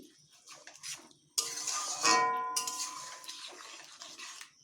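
Spoon stirring a wet paste with added water in a metal bowl for a paneer recipe, giving close clinking, scraping and sloshing sounds that start quietly and turn louder and steady partway through, with no voices.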